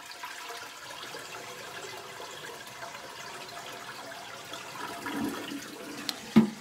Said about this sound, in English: Let's see if it flushes good.